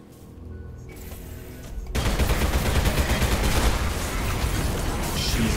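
Gunfire in the shooter Selaco: after a quieter opening, a sudden barrage of rapid automatic shots breaks out and keeps hammering loudly and densely to the end.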